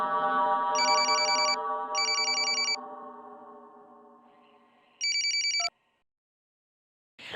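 A phone ringtone trills in pulsing electronic bursts over a sustained tone, then cuts off into silence before a brief sound at the end.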